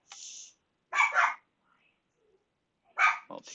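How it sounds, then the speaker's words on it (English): A dog barks in short, separate bursts close by in a quiet room: one sharp yip, then a double bark, and after a pause two more barks. "she's found something interesting to bark at"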